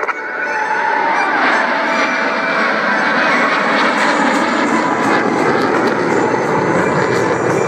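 Jet aircraft roar steadily overhead at an airshow as solo pilots make a high-speed pass, a loud sustained engine rush filling the air with no clear talk.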